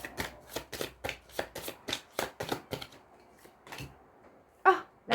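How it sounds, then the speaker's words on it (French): Tarot cards are drawn and shuffled from a deck in a quick run of soft, papery flicks and slaps, close and fairly quiet, followed by a short pause and two louder card snaps. "Je vais prendre 3 cartes."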